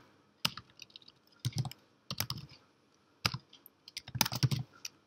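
Bursts of rapid key clicks on a computer keyboard as a command is typed, close and clear, separated by short pauses with no talk.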